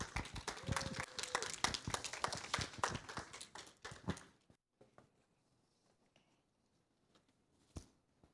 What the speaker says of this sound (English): so let's welcome it with applause.